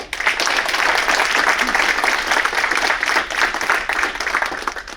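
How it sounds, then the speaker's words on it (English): Audience applause at a Lunar New Year celebration marking the Year of the Tiger, loud sustained clapping from a crowd that holds steady throughout and tapers slightly at the end. "Let's give that a round of applause"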